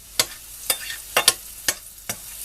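Mushrooms fry in a pan with a soft, constant sizzle, broken by six sharp scraping stirs spaced about half a second apart, close and fairly quiet.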